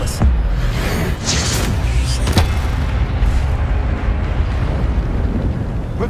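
A spell-casting effect in the Hogwarts Legacy video game, the Expelliarmus disarming charm, heard as a loud, dense rumbling roar with a few sharp bursts and cracks near the start, sustained throughout without a break.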